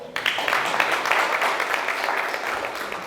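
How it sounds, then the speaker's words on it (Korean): Audience applause during a lecture on the May 18 Gwangju uprising history, a dense, sustained wash of clapping from a large crowd holding steady for a few seconds. "뜨거운 박수."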